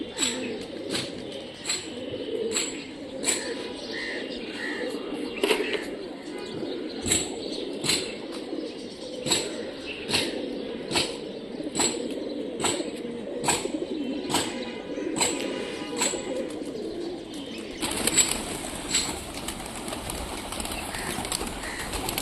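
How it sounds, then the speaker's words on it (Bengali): Large fancy pigeons in Rajshahi give low, continuous cooing, broken by a regular series of sharp clicks and wing flaps that repeat every second or so, then a brief burst of brighter noise near the end. "কবুতরটা সুন্দর আছে, ছাতি বিলং কবুতর,"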